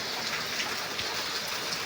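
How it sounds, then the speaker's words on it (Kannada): Rain falling steadily, a dense even patter with no pauses or voices over the short stretch. "ಮಳೆ ಮತ್ತೆ ಬರಕತ್ರಿ"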